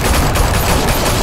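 Dense, loud gunfire in the Batman Telltale Series video game, a continuous burst of overlapping shots filling the whole moment with no pause.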